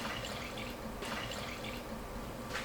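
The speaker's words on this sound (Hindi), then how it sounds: "साथ ही इसमें मैं 2 लीटर पानी शामिल कर दूँगी।" Water is poured into a gram flour and yogurt mixture for kadhi, giving a steady trickling, splashing flow that runs the whole short moment, close and alone with no talking.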